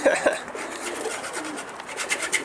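Pigeons in a coop, close soft cooing and brief calls over a low rustling background.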